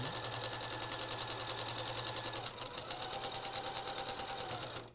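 A domestic sewing machine runs a long tacking stitch across patterned spot fabric, its needle whirring in a fast, even mechanical rhythm up close, with a brief pause midway before it resumes stitching.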